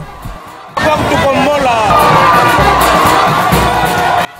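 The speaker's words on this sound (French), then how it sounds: "c'est une foule immense qui accourt pour aller à la rencontre de Moïse Katumbi Chapwe" A huge crowd at a presidential campaign rally for Moïse Katumbi Chapwe in Congo roars and cheers, a dense wall of shouting and excited voices that bursts in suddenly and stays loud and sustained throughout.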